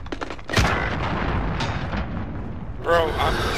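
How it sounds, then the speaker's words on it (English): A cruise missile strike in a video game lands with a sudden heavy blast, then a rumbling roar that lingers and fades before another burst near the end. People talk over it. "Enemy cruise missile."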